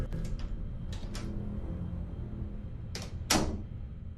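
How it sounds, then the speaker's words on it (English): A bathroom door creaks and clicks open in a quiet building, with a few short knocks or latch sounds early on and a sharper, louder swing near the end over a low hum. "the bathroom door opens"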